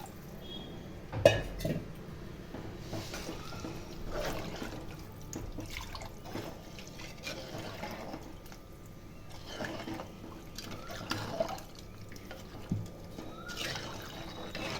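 Tamarind water, strained after soaking, poured into a fish curry in a home kitchen, a soft, quiet liquid splash with occasional clinks of a pot and utensils.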